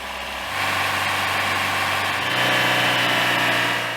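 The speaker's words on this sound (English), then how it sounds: "Field recording provided vehicle engine idles, along with different RPM levels for movement speed for the tank." Field-recorded vehicle engine idling for a tank in a video game: a steady low rumble that begins quietly, then swells after half a second and holds a continuous, even drone with a slight pitch shift midway, no voices.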